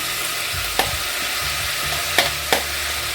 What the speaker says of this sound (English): Now I'll be adding my onion.